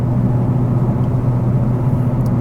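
A 2020 Chevrolet Camaro 1SS 1LE with the Track Performance Package cruising at about 60 in fifth gear, its engine a steady, even low drone heard from inside the cabin, with no voices.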